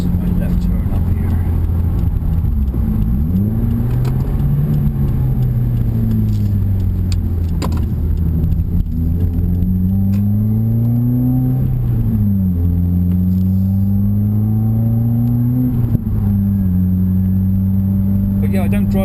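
A 2016 Subaru WRX engine hums steadily from inside the cabin on a quiet evening drive, its low drone rising and falling in pitch as the car shifts and accelerates, loud and continuous throughout.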